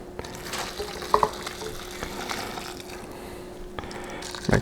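Shrimp pho broth is poured into serving bowls in a steady, hissing liquid wash, broken by a couple of light clinks against the bowls, all fairly close and with no talking.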